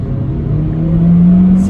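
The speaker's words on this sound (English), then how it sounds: "So let's feel that VTEC." A Honda Civic Type R EP3 engine revs up in second gear, a steady droning note climbing smoothly in pitch and loudness as the engine pulls harder, heard from inside the car.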